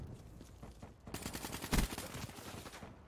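Run-and-gun firing in Battlefield V starts abruptly as dense rapid gunfire, fairly quiet and distant-sounding, with one sharper louder shot standing out midway.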